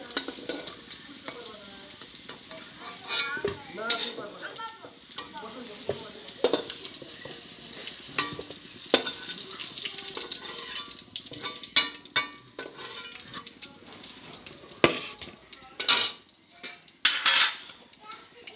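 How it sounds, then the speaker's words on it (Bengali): Cauliflower pieces fried red-brown in oil crackle and sizzle in a pan while a utensil scrapes and clinks against the metal, lifting them out in irregular close taps and bursts. "কপিটাকে আমি লাল লাল করে ভেজে নিয়েছি, তুলে নিচ্ছি।"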